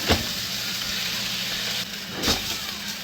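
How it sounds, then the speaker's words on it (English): Steady hissing and sizzling of French fries deep frying in hot oil, continuous and fairly close, with faint low hum underneath and no talking. "It's just deep frying fries."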